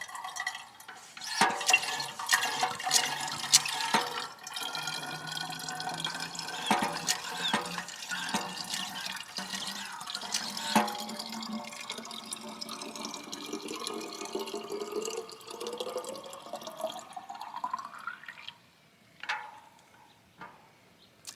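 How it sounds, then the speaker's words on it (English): Clean water pumped from a converted beer keg into glass containers, about 7.5 gallons in all: a steady pouring rush with a pitch that climbs as the vessel fills, then a few loose drips after the flow stops. "now you're ready to pump water"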